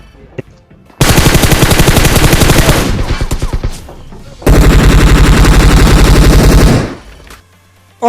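Rapid automatic gunfire in the PUBG battle royale game comes in two long, loud bursts of dense, evenly spaced shots, the first tapering off slowly before the second one starts.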